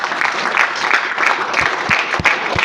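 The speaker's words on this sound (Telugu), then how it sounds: "ఒక్కసారి క్లాప్ చేయండి" An indoor audience at a business seminar claps together, a dense steady round of applause close by, without talk over it.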